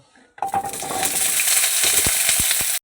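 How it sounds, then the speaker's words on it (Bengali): Small whole onions drop into hot mustard oil in a wok, a sudden loud burst of sizzling that settles into a steady close hiss, with a few metallic scrapes and taps near the end. "এবার পেঁয়াজগুলো আমি ভেজে নেব।"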